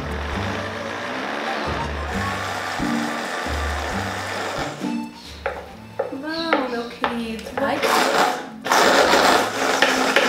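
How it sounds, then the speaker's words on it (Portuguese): A kitchen blender churns vegan protein mayonnaise with lemon, straining with a loud motor whine that comes in bursts and shifts in pitch as the thick mix labors, while a person talks close by between pulses. "Eu vou botar um golinho de água só pra ajudar o liquidificador aqui, porque ele tá sofrendo."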